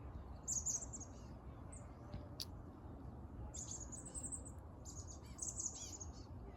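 High, thin chickadee calls come in short bursts over a soft outdoor hush in a backyard orchard, one chirp following another with no talk.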